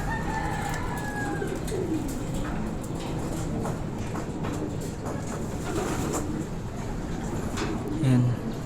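Racing pigeons in a fancier's loft make a steady, busy bird ambience throughout, with a thin whistle-like call at the start and a brief louder sound near the end.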